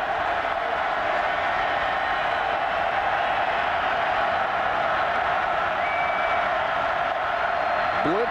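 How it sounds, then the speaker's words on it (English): A football stadium crowd at the 2006 Tennessee vs South Carolina game roars steadily and loudly on 3rd and 10, a dense continuous wall of cheering and noise that never lets up. "Crowd's back into it on 3rd and 10."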